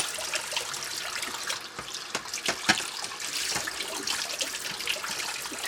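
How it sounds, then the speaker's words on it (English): Tap water runs steadily into a kitchen sink during dishwashing with a washcloth and soap, a continuous close splashing hiss broken by brief clinks and splashes, with no talking. "And I leave the water running the whole time."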